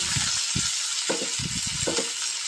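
Drumstick leaves fry in a hot pan with a loud, continuous sizzle, broken by a few low thumps as they are stirred.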